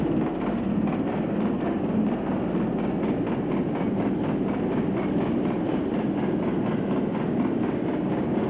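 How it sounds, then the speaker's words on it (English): A Class 35 Hymek diesel-hydraulic locomotive, D7028, runs past at Maidenhead with a steady, fairly loud drone of engine and rolling wheels, rhythmic rail clatter running through throughout. "Class 35 Hymic diesel hydraulic number D7028 was seen at Maidenhead"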